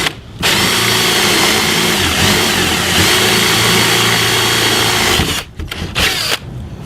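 A mortising bit in a power drill bores a 1.5-inch hole for pocket door hardware, whining steadily and loudly for about five seconds, then cutting out in a few short bursts as the drill stops and restarts.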